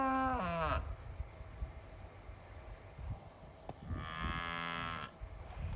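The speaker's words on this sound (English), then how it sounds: "He has been mooing at us since we came" A cow lows on a winter farm in North Mississippi during a winter storm: one loud, close moo at the start and a second long call a few seconds later, with quiet outdoor background between.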